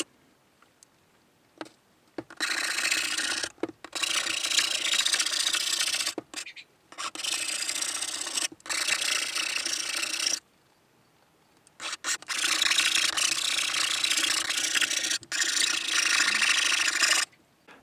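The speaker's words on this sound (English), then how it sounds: "going around with a file and making sure that there are no sharp edges" Hand file worked around the freshly cut edge of a Yoshimura RS3 motorcycle exhaust pipe to remove burrs, giving close, harsh rasping strokes in bursts of several seconds separated by short pauses.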